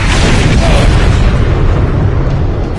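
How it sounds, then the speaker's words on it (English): Mortar explosions in Star Trek Online roar as one continuous, very loud, deep rumbling blast that fills the whole span without a break. "Mortar fire!"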